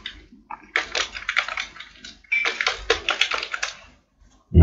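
Computer keyboard typing in two quick bursts of dense, rapid keystrokes during a PHP and MySQL login coding session, close and clear with no talk, ending in a brief louder thump.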